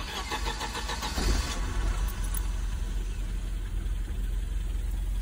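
A white Mercedes-Benz W201 190E with KE-Jetronic injection cranks and catches without throttle, then settles into a steady, close, rough idle that runs unbroken to the end.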